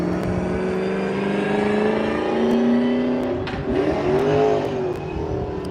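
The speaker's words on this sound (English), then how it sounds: "his S13 2JZ going up to the start line as well" A Nissan S13 drift car with a 2JZ engine rolls toward the start line at a drift practice event in Cyprus, its engine droning and rising in pitch, loud and steady with a brief revving swell near the end.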